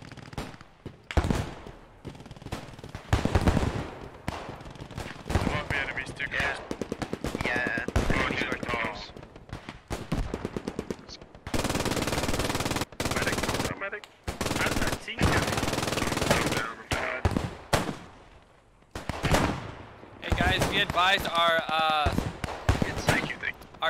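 Bursts of machine gun fire crack repeatedly in a Post Scriptum World War 2 squad battle, loud and close, with stretches of sustained automatic fire and scattered gunshots, while players talk over the combat.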